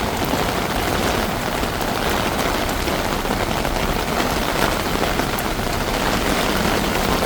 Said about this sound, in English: We already got the heaviest part of the rain.